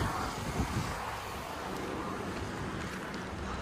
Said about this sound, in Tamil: இன்னைக்கு பார்த்தீங்கன்னா செம்ம காற்றுங்க